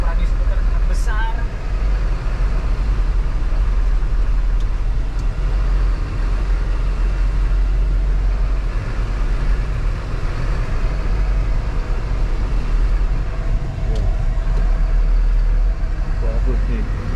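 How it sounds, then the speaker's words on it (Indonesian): A Mercedes-Benz Axor Euro4 truck drives over a bumpy obstacle course, its engine a steady, close, low rumble throughout with faint rattles, while people talk inside the cab. "Kita coba nih truk panjang tapi harus melewati obstacle."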